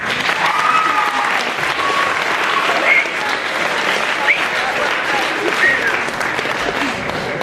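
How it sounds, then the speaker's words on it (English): An audience at an improv comedy night claps steadily and loudly throughout, a dense continuous round of applause with a few scattered whoops rising above it. "All right, just a round of applause."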